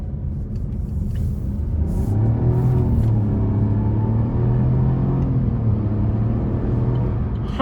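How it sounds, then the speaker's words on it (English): A 2020 Buick Encore GX with a 1.2L turbo engine and CVT accelerates at full throttle: a loud, steady engine drone with a rising hum, heard from inside the cabin with no talking. "I'm gonna gas it here."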